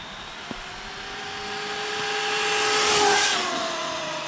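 A Traxxas UDR 6s RC truck driving, a high whining motor that rises in pitch and loudness as it approaches, peaks, then drops away, heard alone outdoors after a brief click at the start.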